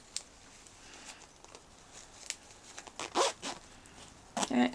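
A zipper newly sewn into fabric is zipped and unzipped, giving a few brief, quiet zipping rasps and handling rustles spread across a near, otherwise calm stretch.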